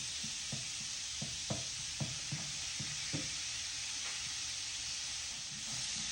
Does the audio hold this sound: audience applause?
no